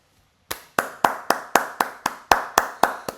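One person clapping hands slowly and deliberately, about ten sharp, evenly spaced claps close to the microphone after a brief silence, each ringing slightly before the next.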